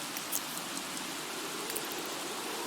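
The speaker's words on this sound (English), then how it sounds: "It is really heavy rain." Heavy rain in The Sims 3, a dense, steady hiss of downpour filling the whole stretch with no breaks.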